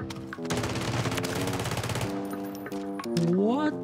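Rapid-fire weapon in Warzone 3 blasting a dense, continuous burst of shots at a very high fire rate, loud and up front, easing off near the end as a rising whine comes in.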